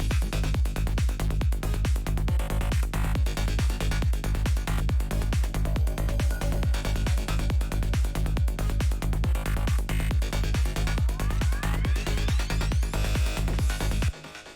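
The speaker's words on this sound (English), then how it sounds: "I'll quickly play just a little part of the drop that we have here." A producer's electronic track drop pounds with a steady four-on-the-floor kick and dense, bright synth layers at full volume, a rising sweep building near the end before it cuts off abruptly.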